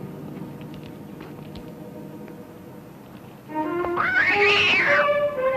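A cat named Puma, just stepped on, lets out a sudden loud, wailing meow-cry that rises and falls, close by, after a few seconds of quiet shuffling.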